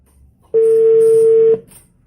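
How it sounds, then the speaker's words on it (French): A single steady telephone tone, a dial or ring-back signal, sounds for about one second while a call is being placed, clear and fairly loud above faint background noise. "celle qu'on va appeler maintenant, elle s'appelle Mariam"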